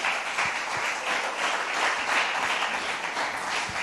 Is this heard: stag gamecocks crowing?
no